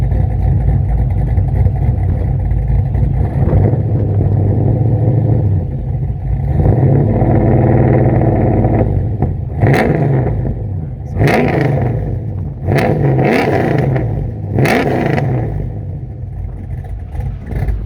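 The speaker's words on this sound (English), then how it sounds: "Yeah, give it some throttle." A performance-built Camaro with an LT1 383 engine idles loudly with a lumpy low rumble, then is revved in several sharp, snarling bursts near the end, close up and with no talk.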